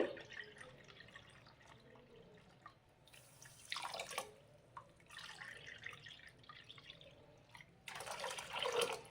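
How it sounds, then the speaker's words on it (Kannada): Water is poured into a pan of sugar to make syrup for sweet potato gulab jamun, quiet splashing pours in three short bursts amid soft drips, with no talk. "ನೀರು ನೀರು ನಾಲ್ಕು ಕಪ್ ಹಾಕ್ಕೊಬೇಕು"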